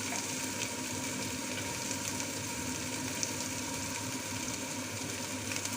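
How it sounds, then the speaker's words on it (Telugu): Ginger garlic paste frying in a pan, a steady soft sizzle that holds evenly throughout without pauses, fairly quiet and with no voices over it. "అల్లం వెల్లుల్లి పేస్ట్ పచ్చివాసన పోయే వరకు వేయించుకోవాలి"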